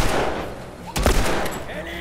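Gunshots in the video game The Last of Us, a sharp loud blast near the middle over steady game ambience.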